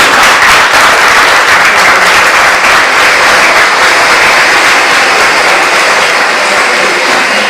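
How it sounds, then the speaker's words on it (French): A crowd at an awards ceremony breaks into loud, sustained applause, many hands clapping densely and evenly for several seconds with no voices above it. "Applaudissez."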